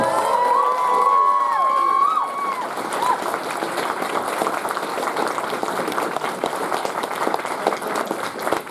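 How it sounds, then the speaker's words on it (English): A convention audience at a closing ceremony bursts into applause and cheering, a loud crowd roar with whoops at first that settles into sustained clapping. "So big round of applause."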